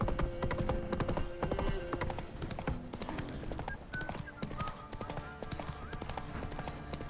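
Steady clip-clop of a horse trotting in The Witcher 3: Wild Hunt, with a brief whinny, set against game music and ambient sound; the rhythm is continuous and fairly close.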